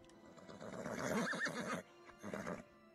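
A unicorn neighs in the fantasy video game Eternity: The Last Unicorn, a loud drawn-out whinny lasting over a second, then a shorter second whinny after a brief gap.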